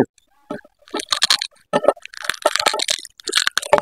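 Crispy fried pork skin from a pig's head is bitten and chewed up close, giving a string of sharp, irregular crunches and crackles between brief pauses.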